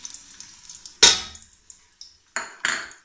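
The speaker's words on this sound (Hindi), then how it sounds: "अब मैं इसको अच्छे से फ्राई करूँगी।" Nigella seeds, cumin and chopped garlic hit a hot pan with a loud sudden sizzle, followed by more bursts of frying and clinks of a utensil against the pan, with no talking.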